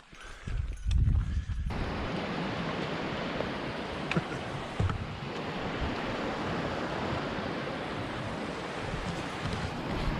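Continuous rushing water from a mountain creek by a footbridge in Tonquin Valley fills the scene, a steady broad wash close by, with a few brief knocks and shuffles near the start.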